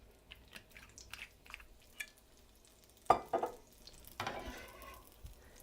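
Food sizzling in oil in a very hot pan, close and fairly quiet, with brief crackling bursts, stirring and scraping and a few soft clatters.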